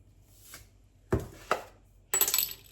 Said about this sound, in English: Next, I'm going to put in a little bit of salt.